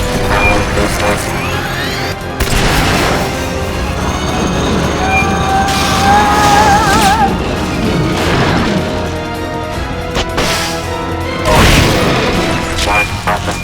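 Loud rocket boosters roar and rumble from a giant war machine in Metal Gear Solid Peace Walker, with booming mechanical crashes, metallic whines and a steady dense blast of game effects and music.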